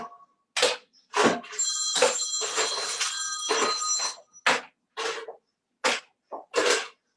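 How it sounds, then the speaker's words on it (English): A phone rings in repeated electronic trills between short bursts of nearby sound, fairly loud and close. "That's my mum's phone, if everyone can hear that"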